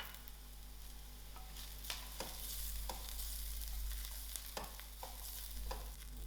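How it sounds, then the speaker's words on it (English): Onions, garlic and sliced green chilies fry in a pan while being stirred, giving a steady sizzle broken by repeated scraping and clacking of the utensil against the pan, close up with no talking. "To my onions, I'll add in my green chilies that I sliced."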